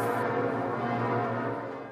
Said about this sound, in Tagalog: Sa Notre Dame Cathedral sa Paris, pinatunog din ang kampana.